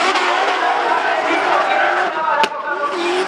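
Drift cars compete at a Drift Open round in Kielce, their engines roaring loud and continuous with tyre noise, as a commentator talks over the action and a sharp click cuts through briefly.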